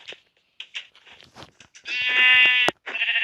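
Several short video game sheep bleats in quick succession, followed by a longer, louder synthetic-sounding bleat, clear and close with no talking.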